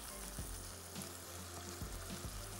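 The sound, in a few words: minced meat frying in a pan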